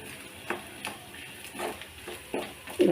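Papaya erissery fries in a pan, with soft sizzling under a series of scraping, clattering stirs spaced roughly every half second to second, ending in a sharper clank.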